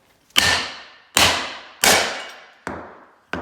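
Five hard blows from a heavy hammer strike a rigid carbon fibre motorcycle clutch cover, each a sharp crack with a brief ringing decay, spaced unevenly and close up.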